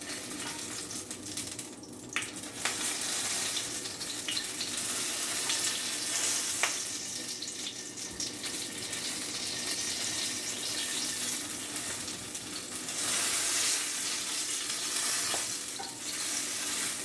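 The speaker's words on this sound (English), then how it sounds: "this grease is popping, and that's because my Scott bonnet pepper was frozen" Hot grease pops and sizzles around a frozen Scotch bonnet pepper frying in a pan, a continuous crackling bed with scattered sharper snaps, close and steady throughout.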